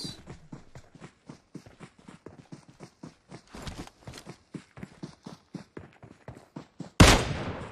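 Rapid, evenly spaced gunshots from a shooter video game crack out in a steady run of sharp bursts, ending with one louder, closer blast.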